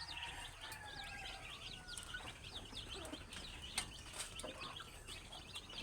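A big fighting rooster clucking on a farm in the Philippines, its calls mixed with other birds chirping over a steady outdoor hum, moderately distant.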